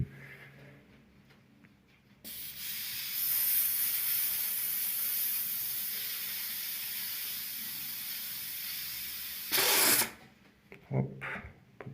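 Air bled from a newly started boiler's heating pipes in an apartment, a steady loud hiss lasting about seven seconds, ending in a brief sharper burst before fading to quiet.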